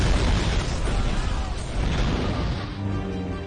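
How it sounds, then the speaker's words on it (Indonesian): A loud, sustained explosion in a film after a place soaked with oil is shot, a broad roaring blast that rumbles on for several seconds and tails off slightly, with no talk over it. "Lee langsung menembaknya hingga membuat tempat itu meledak dan hancur."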